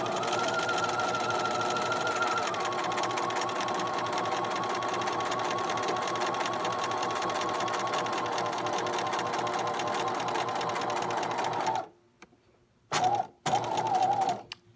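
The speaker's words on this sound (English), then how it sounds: "And I am just sewing in between that small area, making sure my center line is in the center." A sewing machine stitches a sample waistband with a fast, steady mechanical whir and needle chatter that runs for about twelve seconds, stops, then restarts in two short bursts.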